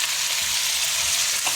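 Chopped onions hit hot oil in a pan and sizzle hard, a close, loud, continuous crackling hiss with a faint clink of stirring near the end.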